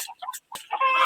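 Chickens cluck in short, bright, uneven bursts, close by and fairly loud, with a brief pause before a longer run of calls.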